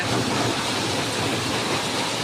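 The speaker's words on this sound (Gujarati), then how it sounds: "એટલે તમે સમજી શકો આટલો વરસાદ છે" Heavy rain pours down in a dense, steady hiss on a shop awning, loud and close, with no voices.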